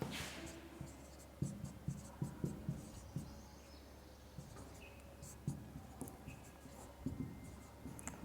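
A pen writes on paper in faint, close scratchy strokes that come in short irregular bursts, quiet and alone without talk.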